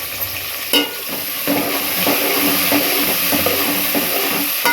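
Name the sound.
shallots frying in oil and being stirred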